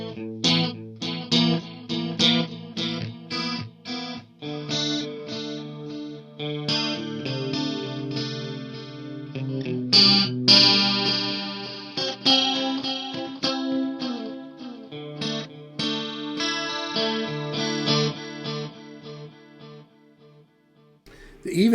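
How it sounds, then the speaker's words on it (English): An electric guitar plays a continuous, busy phrase through an Eventide echo pedal, with notes smearing into repeating echo trails at a steady moderate level throughout. "An Eventide Echo."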